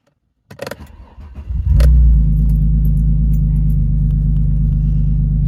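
A car engine cranks over with jangling keys and catches after about a second and a half, settling into a steady, loud idle that runs on without talk; the car had sat unused for months.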